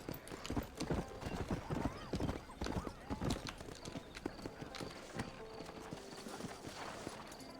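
Steady clip-clop of horse hooves plodding along in Red Dead Redemption, with a brief whinny and game-style ambient noise in the background.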